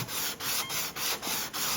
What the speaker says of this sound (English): sand the back of the neck some more